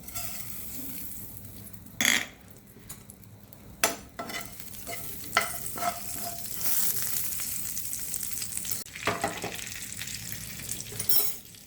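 Fresh curry leaves crackling in hot tempering oil for a Bengali dal, a steady close sizzle with sharp spitting pops and occasional clinks of a spoon against the pan.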